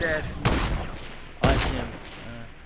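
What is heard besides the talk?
gunfire in Fortnite Battle Royale video game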